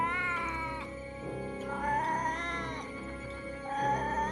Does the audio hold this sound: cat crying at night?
yes